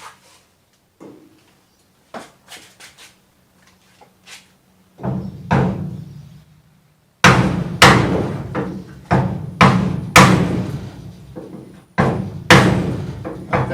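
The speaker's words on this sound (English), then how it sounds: "tap with the hammer" A hammer taps on the sheet metal of a Mk 2 Ford Escort RS2000 body, first a few light, sparse taps, then a run of louder, closer strikes at an irregular pace.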